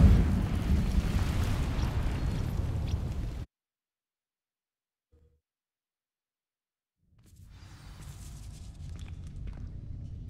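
An Incendio fire spell in Hogwarts Legacy ignites dry vines with a loud, rumbling whoosh of flame that cuts off abruptly into silence, then a lower crackling burn rises again several seconds later.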